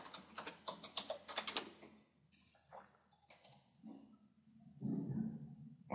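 Keys clatter in quick bursts on a computer keyboard as a search term is typed into an online search field, the clicks close and crisp, then sparser taps follow.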